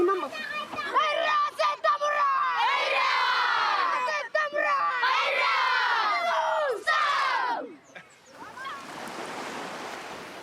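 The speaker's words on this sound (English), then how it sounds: "Okay, let's do have a cheer." A rugby team in Fiji cheers together outdoors near the coast, bursts of loud shouted chanting in several rising waves, then breaking off into wind and surf noise.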